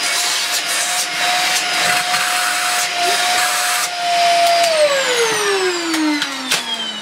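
A Dyson DC50 vacuum cleaner runs loudly up close with a steady whine that holds, then glides downward in pitch near the end as the motor winds down, with scraping and rubbing noises mixed in.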